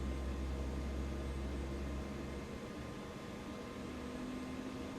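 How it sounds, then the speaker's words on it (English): MH-60 helicopter jet engine starting in a flight simulator, a faint low rumbling drone with a steady whine layered over broadband hiss, the bass thinning out partway through as a higher tone settles in. "That's the sound of a jet engine starting"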